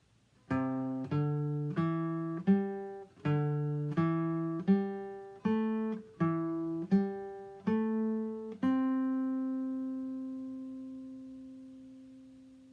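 A guitar plays a four-note grouping scale exercise: about a dozen single plucked notes at an even, unhurried pace, each decaying, the last one left ringing long and alone.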